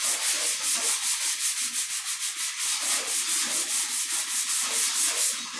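Sandpaper works a low spot on a guide-coated car body panel in steady, rhythmic back-and-forth strokes, a close, dry rasping with no talk.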